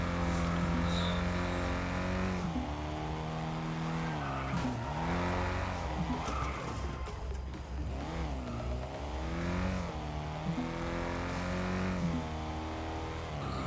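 A rally racing video game plays engine sounds from a car, with repeated revving rising and falling in pitch, gear shifts and occasional tire squeal, moderately loud and steady throughout.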